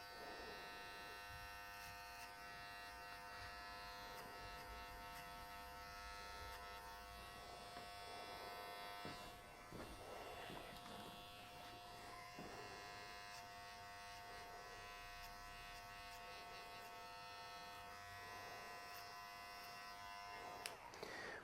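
An electric hair clipper fitted with a number 1 (3 mm) guard buzzes steadily and close while cutting a man's hair, a sustained hum with small shifts in tone as it moves.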